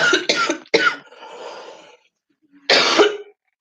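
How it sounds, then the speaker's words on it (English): A coughing fit: several harsh coughs in quick succession, a wheezy breath, a pause, then one more hard cough, close to the listener. "oh, another coughing fit."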